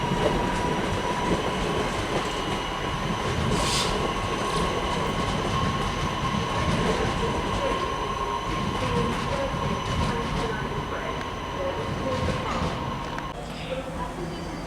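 A Class 323 passenger train rolls out of Manchester station with a loud, continuous rumble, rattling wheels and a steady whine, gradually fading as it pulls away.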